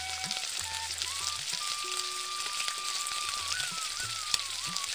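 Onion with ginger-garlic paste fries in oil in a pan for a Bengali shrimp curry, a continuous even sizzle heard up close with scattered faint crackles and no talking.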